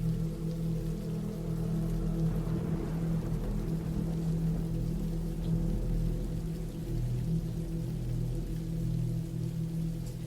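Steady rain falls as a continuous, even wash of noise throughout, with a low droning hum underneath and no voices.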